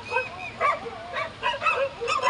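Several dogs in a group outdoors yip, whine and bark in short repeated bursts, moderately close, with a faint background hum between calls.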